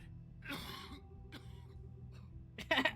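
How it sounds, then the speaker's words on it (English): A character coughs in The Wolf Among Us, a short throaty cough-and-clear burst at moderate loudness over a quiet game backdrop, followed by a sharper, louder rasp near the end. "I cough up blood."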